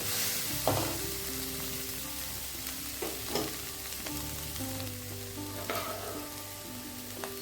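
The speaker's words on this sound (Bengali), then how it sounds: "দিয়ে দিচ্ছি মশলাটা মশলাটাও দিয়ে মিশিয়ে নিচ্ছি" Spices mixed into frying banana flower in a pan: a steady sizzle with occasional scraping stirs, over faint tonal background music.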